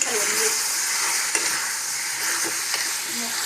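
Mutton sizzles steadily in hot oil while a utensil stirs it, scraping a few times against the pan, close and loud.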